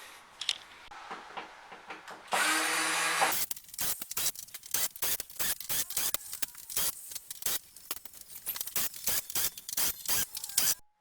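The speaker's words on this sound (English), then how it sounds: "Just use an electric drill." An electric drill backs screws out of the rear cover of a Sony KD-70X690E smart TV: a short, steady whir followed by a rapid, uneven string of close clicks and ratchety bursts.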